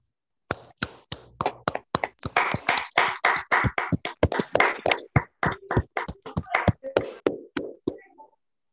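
Scattered hand claps from a small online audience ring out in uneven bursts, growing denser then thinning out, close and a little tinny, with no talking over them.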